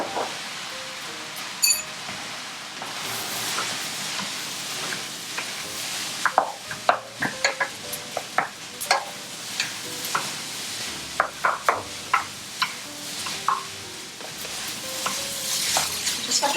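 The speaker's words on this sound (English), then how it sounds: "Just have to break up the rice, make sure it's sort of all mixed in." Spatula stirring and scraping shrimp fried rice in a hot pan, with continuous sizzling under repeated clinks and scrapes of varying loudness, close and without talk.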